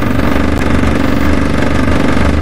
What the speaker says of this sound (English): An act of faith, driving off-road at night in the dark.